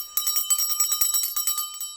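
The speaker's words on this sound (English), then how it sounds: "I'm going to ring this bell." A nicely built hand bell with a clapper inside rings rapidly and repeatedly, bright, steady peals close by with no talking.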